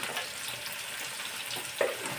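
A steady hissing sizzle of winter vegetables and eggplant frying in a pan continues throughout, with a faint clink partway through and no voices.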